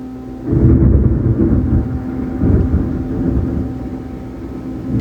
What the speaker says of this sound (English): That was crazy lightning.